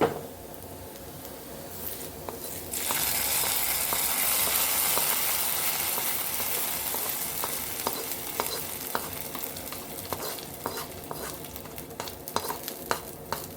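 Sliced onions hit a hot pan for a Kerala chicken milk curry, a steady loud hiss of sizzling that swells after a moment, with repeated scraping stirs and clicks close by and no voices.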